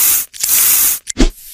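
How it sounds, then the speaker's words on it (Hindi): Bursts of spray from an ASMR animation of a fungus treatment on an infected eye: a loud, close hiss cut by two brief pauses and a short thud. "अब देखिए स्प्रे से हम लोग फंगल को हटाएं।"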